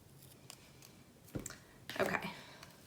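Scissors snip off the edge of a planner sticker, giving a few quick, soft, close cuts with faint rustling between them.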